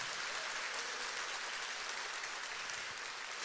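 Church congregation applauding during a sermon, a steady, even wash of many hands clapping, moderately distant and consistent from start to finish.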